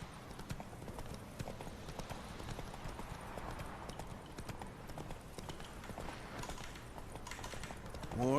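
Horse hooves clip-clop steadily in The Witcher 3 video game, a continuous rhythmic trot heard throughout at moderate volume over a bed of ambient game sound.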